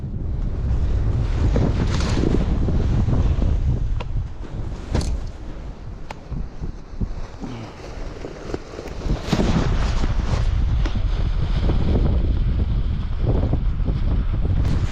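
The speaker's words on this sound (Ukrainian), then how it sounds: "вітер є і водночас він дуже рваний, дуже тріпає сильно кайт" Strong, gusty wind buffeting the microphone outdoors at a snow kiting spot in Bukovel, surging and easing in uneven blasts with a brief lull midway before roaring back.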